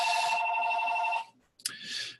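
A telephone rings loudly through a long trill, breaks off into a short silence, then starts a second ring that carries to the end.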